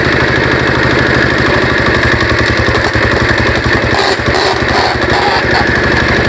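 A new wood-splitting machine's engine runs steadily nearby, a loud, even chugging idle with a fast regular pulse and rattling vibration throughout.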